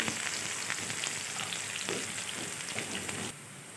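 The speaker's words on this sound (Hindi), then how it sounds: "अब इसके अंदर मैंने प्याज डाल दिए। अब प्याज को हम लोग लाइट ब्राउन कर लेंगे।" Sliced onions sizzle in hot oil in a pan while cooking dhaba-style chana dal, a steady crackling fry heard up close and alone, easing slightly quieter near the end.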